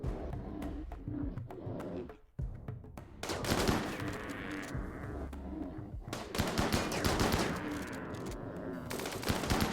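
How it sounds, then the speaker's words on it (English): Charge rifles fire in short bursts in the colony game Rimworld, repeated sharp crackling volleys of rapid shots, loud and close, with brief lulls between bursts. "I know that the charge rifle can actually hit pretty hard with its burst of 5"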